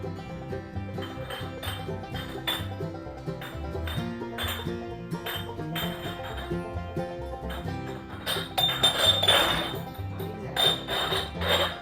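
Glass jars clink and knock repeatedly against each other and a hard surface, bright pings scattered through a continuous busy background.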